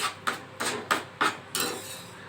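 Spoon scraping and knocking in a pan while sugar and cinnamon are stirred into mango kesari, five or six sharp strokes in quick irregular rhythm, close and clear with no voices.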